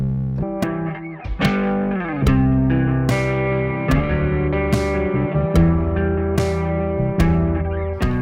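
A rubber-bridge guitar, played as a bass with doubling switched off, sounds a string of plucked, muted low notes in a steady groove, each attack short and rounded and decaying quickly, close and clear with no talking.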